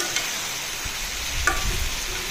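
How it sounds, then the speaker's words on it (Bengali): Pangas fish and eggs frying with spice paste in a curry: a steady close sizzle with a single soft utensil knock, alone with no voices. "এর সাথে মাছটাও দিয়ে দেই, ডিমও দিয়ে দেই। মাছটাকেও কষুক মশলার সাথে।"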